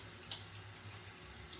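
A bathroom sink faucet runs with a steady, soft stream of water and a faint splash, heard close and quiet with no talking.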